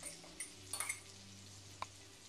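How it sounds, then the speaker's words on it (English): Four ounces of sliced mushrooms sautéing in a pan over low heat, a soft steady sizzle with a few small clicks and stirring knocks, quiet and close, no voices. "We'll let those saute for a while."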